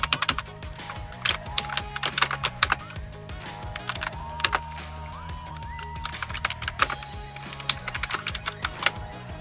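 Computer keyboard typing of a title, a quick irregular run of light clicking keystrokes, close and steady, over a faint background hum.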